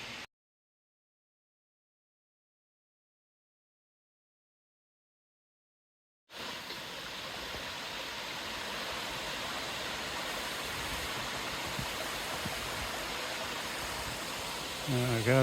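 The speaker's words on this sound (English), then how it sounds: "All the way up to those waterfalls." Waterfall along the Appalachian Trail approaching Shenandoah, a steady broadband rush of falling water that starts abruptly after several seconds of silence and continues close and loud.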